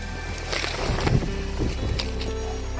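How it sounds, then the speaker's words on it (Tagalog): Strong typhoon wind buffets and roars steadily outdoors, with gusty rushes swelling and fading; no voices. "Sobrang lakas, di ba? Lakas ng hangin."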